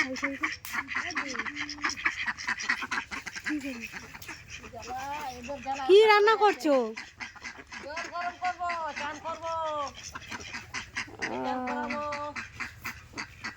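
Domestic ducks, including a large drake, quack and honk in short nasal bursts near a village kitchen, loudest in the middle, while people talk around them.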